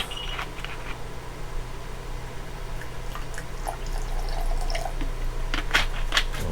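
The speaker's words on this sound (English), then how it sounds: "I'm going to also add a little bit of white vinegar" White vinegar poured into a salad dressing in a home kitchen: a faint, brief liquid trickle and a few drips over a steady low appliance hum, with no talking.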